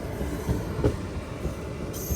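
Train on the adjacent track at Betraguntha station, a low continuous rumble with faint clatter and a brief squeal, heard from a neighbouring train without any talk.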